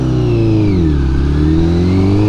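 A Honda CBR1000RR motorcycle engine revs loud and close. The pitch dips and then settles into a sustained high drone, with no voices.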